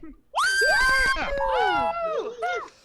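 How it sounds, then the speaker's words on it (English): A stand-up comedy show audience member lets out a loud, shrill scream lasting a couple of seconds, rising and breaking into several wavering cries, close and alone without talk. "someone screamed like they were getting murdered"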